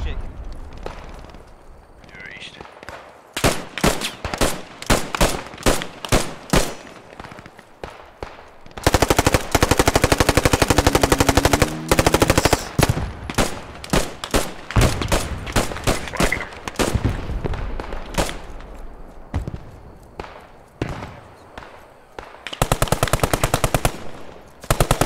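Loud bursts of machine gun fire in the World War II shooter Post Scriptum during a large 40 vs 40 battle, rapid rattling volleys and long sustained strings of shots, with players talking over the gunfire.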